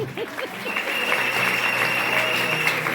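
An audience at a church testimony gathering breaks into sustained applause, a dense, even wash of clapping that fills the moment after a brief voice at the start.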